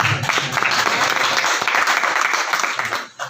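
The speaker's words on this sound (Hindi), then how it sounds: "मैं चाहता हूं कि मेरे समेत आप सबके लिए तालियां होनी चाहिए।" Enthusiastic applause from the crowd at a mushaira poetry gathering, dense loud clapping that carries on steadily before trailing off abruptly near the end.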